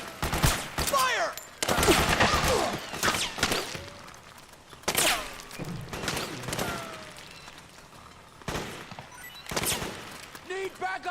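Gunfire in the video game Metal Gear Solid 4, loud bursts of automatic fire and sharp shots in clustered volleys with brief pauses, mixed with shouted voices and mechanical clatter.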